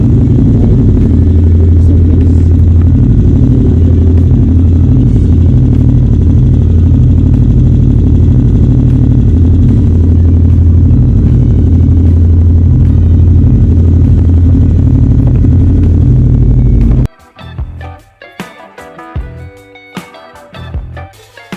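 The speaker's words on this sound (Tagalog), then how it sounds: "Start natin yung makina." A motorcycle engine idles steadily after an oil change, a close, even rumble that runs unbroken until it is switched off, after which only scattered clatter and handling noises follow.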